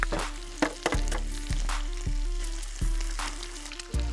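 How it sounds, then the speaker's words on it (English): An egg fries in a pan beside nearly cooked bacon over an outdoor fire in the woods, giving a steady, close sizzle with scattered crackles and pops throughout. "Okay, so once your bacon's nearly cooked, you can pop your egg in."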